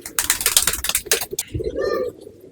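Long-flying pigeon breeds in a pet shop: a burst of flapping and clattering movement gives way to a low, rolling coo close by.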